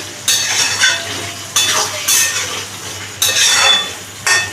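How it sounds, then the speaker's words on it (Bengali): A spoon stirs fried prawns into a mixed vegetable curry in a pan. Four scraping, sizzling bursts come at a steady pace, with quiet gaps between them and a low hum underneath. "আমি এই ভেজে রাখা চিংড়ি মাছটা দিয়ে দিলাম দিয়ে ভালো করে এটাকে মিশিয়ে নিচ্ছি"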